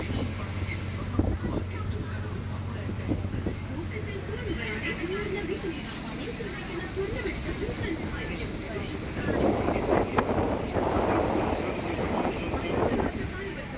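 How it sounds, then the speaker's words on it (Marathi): A small boat cruises the Alleppey backwaters amid steady wind and water noise, the wash growing louder and rougher toward the end, with people's voices faintly present. "छोटीशी बोट राईड आपण घेतली एलिप्पी बॅकवॉटर."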